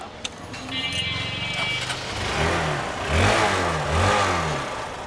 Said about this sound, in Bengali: সাউন্ডটা দেখেন কত স্মুথ সাউন্ড গাড়ি কিন্তু স্টার্টে